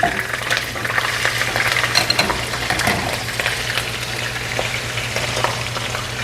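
Marinated chicken frying in oil in a pan over a low flame, sizzling loudly and continuously while it is stirred, with frequent scraping and clatter of the utensil close by.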